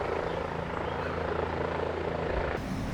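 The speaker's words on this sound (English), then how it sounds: "While we're waiting on this helicopter to get out of here" A helicopter hovering nearby outdoors gives a steady, loud rotor drone with a low throbbing beat, continuous and close, with no talking.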